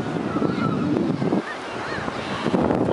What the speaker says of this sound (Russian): Ну, ветер просто.